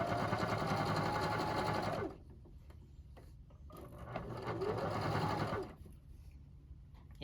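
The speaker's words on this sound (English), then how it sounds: "And then we're just going to sew this all the way down." A sewing machine stitches a pillowcase seam in two steady runs of rapid mechanical whirring, close and clear, with a short quieter pause between them.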